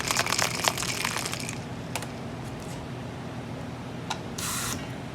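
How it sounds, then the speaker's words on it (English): Ice and matcha rattle inside a lidded mason jar in short, crunchy bursts of shaking, followed by quieter handling, a clink and a brief hiss. "put your lid on and shake it until it's frothy"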